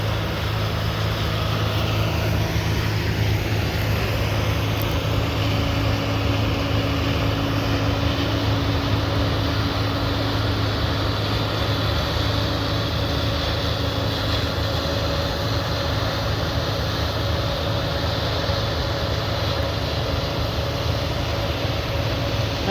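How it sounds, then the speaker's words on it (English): A combine harvester fitted with a Redicop chopper cuts canola, giving a steady, loud, unbroken machine roar and drone with no pauses and no talk. "I really like that Redicop chopper."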